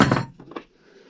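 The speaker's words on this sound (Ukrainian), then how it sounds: "Стандартний ключ від бензопилки." A standard Stihl chainsaw wrench, a metal key, clinks as it is handled, one brief rattle followed by two lighter taps, close by and fading into quiet.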